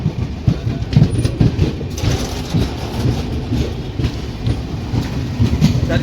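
The Tamil Nadu Sampark Kranti Express passes slowly through a loop line near Bellampalli without stopping, its wheels rumbling and clicking steadily over the rail joints in a loud, continuous roll close by.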